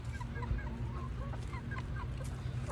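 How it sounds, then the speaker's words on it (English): A busy flock of about 16 chickens clucking and murmuring nearby in a backyard run, overlapping short calls over a low background hum. "you might be able to hear them, but I've got 16 chickens."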